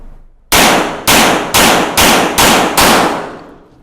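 Six sharp, loud gunshots from an RIA Tac Ultra 9mm 1911 pistol fired at a range, evenly spaced about half a second apart, each crack followed by a brief decaying echo.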